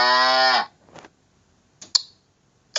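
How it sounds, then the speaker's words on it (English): A cow gives one loud, drawn-out moo that fades after about half a second, followed by a few soft clicks and taps in an otherwise quiet space. "Cow."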